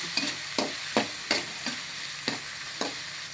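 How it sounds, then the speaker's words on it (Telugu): Tomato pieces frying in a pan for vegetable fried rice, a soft sizzle under regular stirring strokes, about eight distinct scrapes in quick rhythm, close and quiet with no talking. "టమాటో ముక్కలు వేసుకోవాలి ఇలా ఇలా వేయించుకోవాలా"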